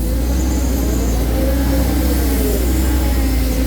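A Caterpillar 320D2GC excavator with a four-cylinder engine runs steadily at close range, a continuous low diesel drone with a constant loudness throughout and no voices.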